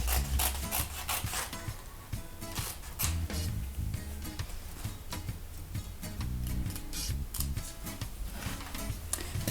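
Rapid, steady scraping and snipping of blades cutting through fabric, close up, continuous for several seconds without talk.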